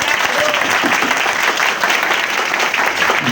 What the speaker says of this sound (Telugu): ఒకసారి చప్పట్లు